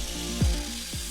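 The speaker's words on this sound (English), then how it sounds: "I used a nut and bolt to chuck the wheels up in my drill in order to carve the tyre" Model aircraft foam wheel spun in a drill on a nut and bolt while its tyre profile is carved with a Permagrip sanding block, a steady whirring drone with two brief scraping sweeps where the block bites.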